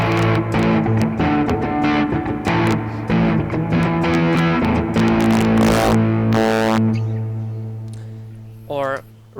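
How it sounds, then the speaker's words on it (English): Heavily distorted electric guitar plays loud, crunchy chords and riffs, ending on a sustained fuzzy note with a brief squeal. "you get to know different types of effects, such as distortion"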